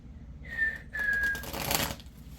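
A person whistles two slow, drawn-out notes in imitation of a bird call, the second gliding gently downward, followed by soft rustling.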